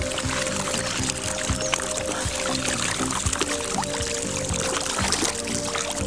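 Water poured out of a rigid-bottomed keepnet as caught tench and other fish are released, a continuous close splashing gush with a steady low hum beneath.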